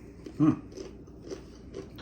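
A single crisp crunch from biting into a lime-flavored plantain chip, close and fairly quiet, followed by soft chewing.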